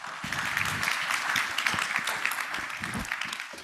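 An audience applauds after a talk at a crypto expo, a dense, continuous clatter of many hands at moderate loudness, steady throughout.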